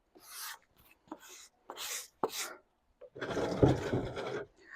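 Hand sanding over chalk-painted wooden furniture to distress the finish, a few short separate rubbing strokes followed by a longer, louder continuous stretch of rasping scrubbing, close up with no talk.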